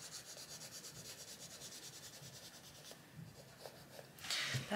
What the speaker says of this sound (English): scribble on a scrap of paper first.